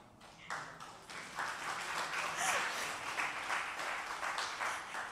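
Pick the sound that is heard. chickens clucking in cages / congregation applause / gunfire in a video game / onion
congregation applause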